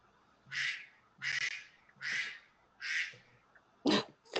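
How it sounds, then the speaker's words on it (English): A duck quacks five times in a steady series, loud and close, with no talking over it. "I heard a duck."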